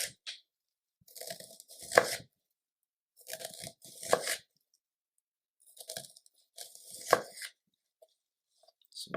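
A knife chops through an onion on a cutting board in three separate bursts of rapid crunchy strokes, close and clear, with quiet pauses between them.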